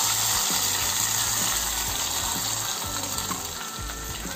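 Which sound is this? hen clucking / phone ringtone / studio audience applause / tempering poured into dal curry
tempering poured into dal curry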